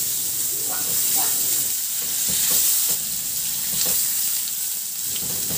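Ginger sautéing in a reduced amount of oil in a pan, giving a loud, continuous close sizzle with occasional stirring scrapes over the top.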